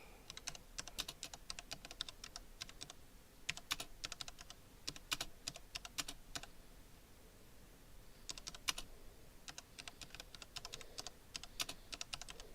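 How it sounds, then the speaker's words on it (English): Fast, uneven bursts of clicking on a computer keyboard come in clusters separated by short pauses, quiet and close to the mic, with no one talking. "Sorry, my typing sucks."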